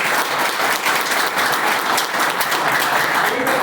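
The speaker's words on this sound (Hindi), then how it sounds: "मैं चाहूंगा एक बार ताली जरूर बजाएं उनके लिए।" A crowd at a business seminar applauds a mentor, loud dense clapping held steady throughout at close range.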